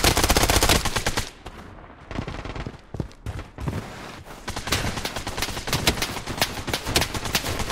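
Automatic gunfire in the shooter game Blood Strike rattles in loud rapid bursts, falling to a sparse lull with single cracks midway before dense firing resumes.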